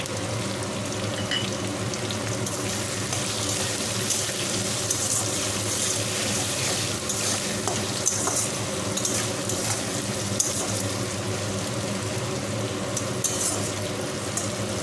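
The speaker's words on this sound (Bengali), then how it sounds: "আর দেবো লবণ আর হলুদ আলু ভাজতে।" Potatoes frying in hot oil with salt and turmeric make a steady, dense sizzle that stays constant throughout, close and moderately loud, with faint stirring clatter.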